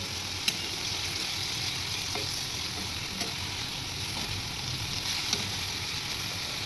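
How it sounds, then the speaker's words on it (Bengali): Dried hilsa fish fritters frying slowly in a pan, a steady close sizzle with faint pops and occasional utensil clicks, no talking. "তো এটাকে আমি আস্তে আস্তে ফ্রাই করে নিচ্ছি।"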